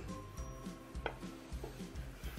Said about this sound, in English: Now that we have the meatloaf off of the tin foil, I'm ready to slice it.